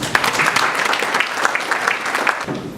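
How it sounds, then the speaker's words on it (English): Conference audience giving a rousing round of applause to welcome a moderator onto the stage, dense, loud continuous clapping with scattered sharp claps, easing slightly near the end. "with a rousing round of applause, let us welcome our moderator to the stage"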